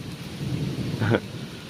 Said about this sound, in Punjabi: ਮੀਂਹ ਦੇਖੋ ਤੁਸੀਂ ਕਿੰਨਾ ਤੇਜ਼ ਹੋ ਗਿਆ ਸੁਣੋ ਮੀਂਹ ਦੀ ਆਵਾਜ਼